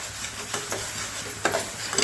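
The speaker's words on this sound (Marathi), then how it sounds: "हा मसाला चांगला भाजून घ्यायचा" Masala roasting over a low flame in a pan, a faint steady sizzle with a few short scrapes of a spoon stirring, close and without voices.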